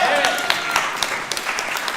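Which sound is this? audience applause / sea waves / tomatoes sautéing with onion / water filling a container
audience applause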